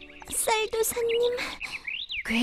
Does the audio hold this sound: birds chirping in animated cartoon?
yes